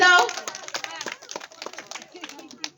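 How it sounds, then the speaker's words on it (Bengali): A group of children clap their hands together at a home Rabindra Jayanti celebration, just before a little girl's dance. The claps come as quick, fairly loud bursts that thin out into scattered claps, with some voices mixed in. "সবাই একটু হাততালি দাও জোরে, সবাই আগে হাততালি দাও"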